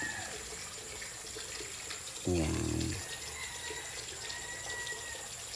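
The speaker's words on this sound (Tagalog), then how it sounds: "naglalagay pa lang ako ng tubig." Water runs steadily into a pool with a constant hiss, like a hose filling a basin, while a voice speaks briefly partway through.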